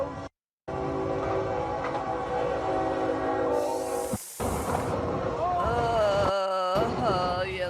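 A train runs on railway tracks where a wind turbine blade is being moved across them, with loud, rumbling passes and long tonal horn blasts. The sound is broken by abrupt cuts and short silent gaps.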